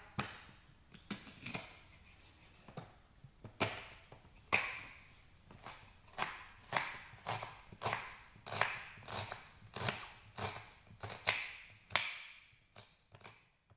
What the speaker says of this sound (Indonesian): Kemudian kita potong bawang merah.